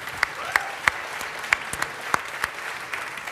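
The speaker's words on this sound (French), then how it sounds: "On va applaudir ceux qui ont répondu" Audience at a live concert at the Paris Audio Video Show claps enthusiastically, a dense wash of applause punctuated by several sharp, distinct louder claps spread through the burst.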